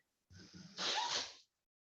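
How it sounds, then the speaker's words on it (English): A man being interviewed gives one close sneeze, with a short breathy intake followed by a sharp burst, and silence before and after. "Excuse me, I'm gonna sneeze."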